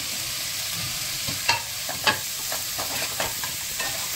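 Tomato pieces fry in a pan for a Goan bitter gourd dish, a continuous crackling sizzle broken by a few sharp stirring scrapes, with no talking.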